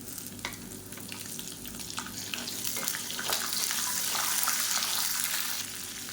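About 150 grams of small onions sizzle while sautéing in a pan for onion thokku, a steady close frying hiss with soft stirring scrapes that grows slightly louder, and no talking.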